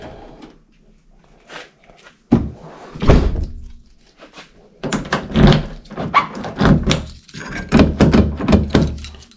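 Several dull mechanical clunks and thunks of a first-generation Toyota Tacoma door locking and unlocking with an upgraded metal door handle, repeated at close range with some handling noise in between.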